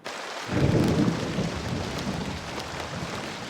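Heavy thunderstorm near the Athabasca River, a deep rolling thunder rumble building in after a brief quiet start and trailing off under a steady dense hiss of hard rain, with no voices.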